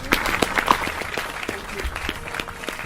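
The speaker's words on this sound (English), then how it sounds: "Can we all give a clap, big hand to group 2?" Audience applause for the winning group of children at a Sathya Sai Baba 95th birthday celebration in Greater Phoenix; steady clapping from a moderate crowd fills the clip, with a faint voice underneath.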